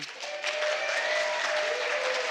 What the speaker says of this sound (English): I'll pause for the clapping.